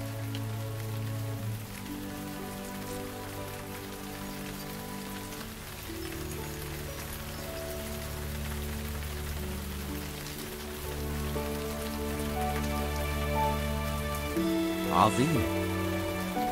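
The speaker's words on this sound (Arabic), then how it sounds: "تمطر السماء، الآن تمطر حقا" Steady rain falls throughout, a soft continuous patter under a musical background, with a voice speaking briefly.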